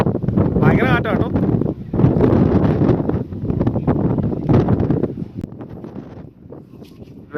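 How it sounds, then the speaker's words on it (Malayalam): Strong wind gusts across an open spot by Salaulim dam in South Goa under overcast skies, buffeting the microphone with loud rumbling bursts while people talk over it. "ഭയങ്കര കാറ്റാട്ടോ."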